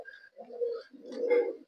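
A captive pigeon, a young adult bird offered for sale, gives two soft, close coos, the second longer and fuller.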